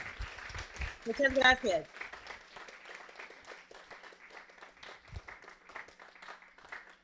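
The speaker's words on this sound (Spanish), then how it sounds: "Un fuerte aplauso nuevamente para ella." An audience of school staff and students applauds a teacher at a school event. A burst of clapping is heard early, then lighter applause continues under a speaker's voice.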